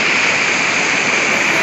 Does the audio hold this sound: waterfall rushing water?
yes